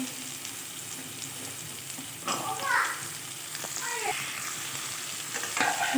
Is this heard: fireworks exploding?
no